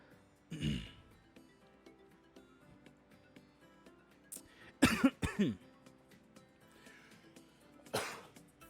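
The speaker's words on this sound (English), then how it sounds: "My cough got in the way." A few harsh coughs break a quiet background, one near the start, a cluster of two or three in the middle, and another near the end.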